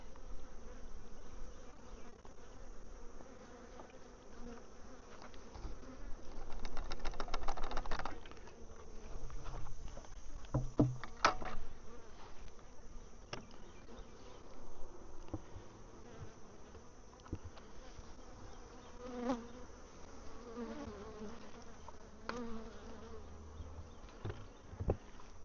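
Honeybees hum and buzz steadily around an open hive during an inspection and feeding, a faint continuous drone with occasional louder passes and small taps.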